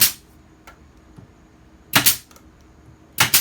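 A pneumatic brad nailer fires into scrap wood while a bathroom vanity is built, giving three sharp, loud, close shots, one near the start and two more later, with quiet gaps between them.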